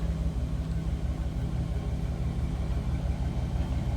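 A 2004 Chevrolet SSR with a 5.3 V8 idles steadily, giving a low, even rumble with a faint pulsing throb, close and continuous and with no talk over it.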